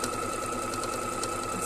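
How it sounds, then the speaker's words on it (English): A sewing machine stitches quilt fabric with a steady, fast mechanical whir and a continuous rapid rattle of the needle, even and unbroken throughout. "And I'm going to sew all the way down here."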